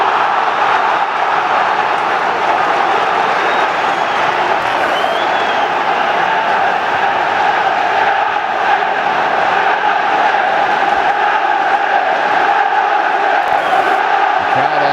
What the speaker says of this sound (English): The crowd are trying their best.